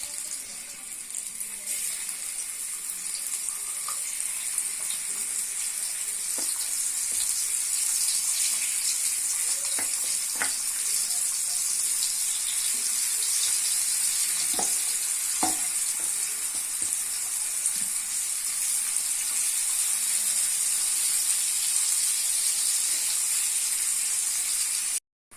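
Spiced pumpkin slices frying in hot oil on a tawa, a continuous close, even sizzle with occasional small pops and spatters, no talking.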